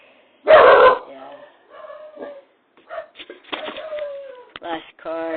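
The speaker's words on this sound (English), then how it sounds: "My apologies for the dogs." Dogs indoors let out one loud, close bark at the start, followed by softer whines and yips, while a person talks over them.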